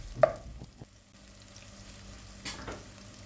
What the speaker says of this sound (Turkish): bir kuru soğanı doğrayıp soğanların pembeleşmesini sağlıyorum